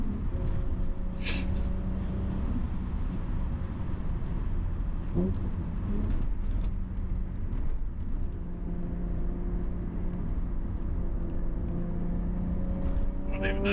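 Toyota Soarer JZZ30 on coilover suspension cornering at 100 km/h, with a continuous loud engine and road roar inside the cabin and faint shifting tones throughout.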